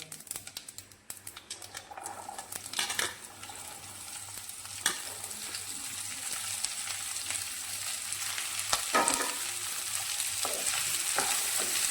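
Beans frying in a pan with curry leaves and coconut, a continuous close crackling sizzle broken by occasional sharp clicks and scrapes of stirring, with no talk.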